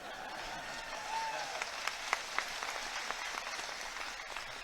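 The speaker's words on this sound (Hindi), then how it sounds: "अब जो ताली नहीं बजाए उसको फोटो खींच लो यार चंदन।" A crowd at an outdoor political rally in Narayanpur claps, a faint scattered patter of applause under a hazy background, with a brief tonal sound early on.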